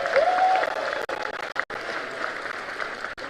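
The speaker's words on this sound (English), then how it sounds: "Now the last round of applause, please do give it to me" Sustained applause from a large audience at a formal awards ceremony, dense and continuous with a few brief dips, filling the hall at steady volume.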